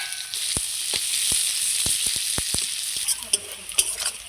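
Bay leaves and three large chopped onions frying in hot oil in a home kitchen, a steady close sizzle broken by sharp stirring scrapes of a spoon against the pan.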